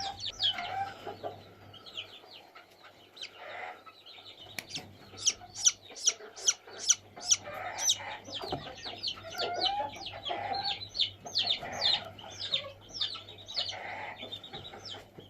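High, sharp chick peeps repeat in quick series, some loud and close, over soft clucking and a low steady hum, from a chick being treated for splayed legs.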